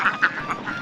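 Ducks on a riverside char island duck farm quack loudly and close by, about four sharp nasal quacks in quick succession with no talking.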